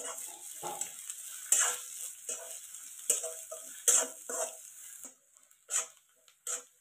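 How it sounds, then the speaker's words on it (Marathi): Tempering with chopped onion fries in oil for a spiced village-style stuffed brinjal curry, with steady sizzling broken by repeated spoon scrapes and stirs, near and moderately loud, fading to quieter intermittent stirring. "फोडणी मस्त अशी तळलेली या."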